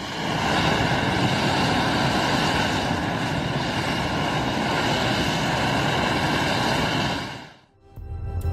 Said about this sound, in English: these jet-powered snowblowers are clearing snow from major highways in China